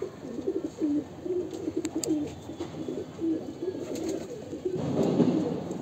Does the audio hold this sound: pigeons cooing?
yes